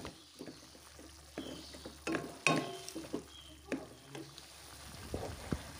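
Capcay vegetables with seasoning being stir-fried, with quiet scraping stirs and soft sizzling in a pan, a few sharper clinks of the utensil against the wok.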